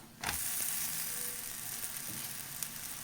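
Flatbread cooking in oil on a hot pan gives a continuous soft sizzle that starts abruptly and holds steady, with a faint click or two near the end and no talking.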